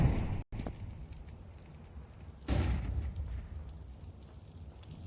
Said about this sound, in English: Big nade onto Xantares early.